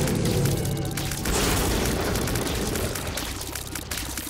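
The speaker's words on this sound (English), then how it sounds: "Dude took a bomb to the mouth." A bomb blast in The Binding of Isaac Repentance strikes an enemy, giving a loud, dense boom that rumbles on with a crackling, washy tail and no voices over it.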